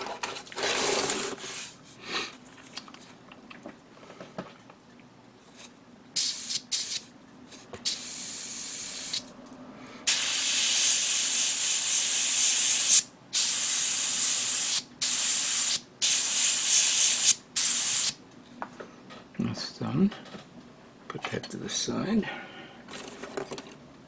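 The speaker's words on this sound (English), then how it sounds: "I'm painting this all gunmetal" An airbrush sprays gunmetal paint onto a 1/144 HG GunCannon Gundam model kit, giving a hissing spray in short bursts and longer sustained passes between quiet gaps, with faint handling noises.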